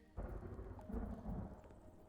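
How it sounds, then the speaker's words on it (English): Thunder rumbles outside during a game of Unexplored 2, a steady low roll with rain-like hiss layered over it, moderately loud and continuous with no talk. "I like how we can still hear the thunder from outside."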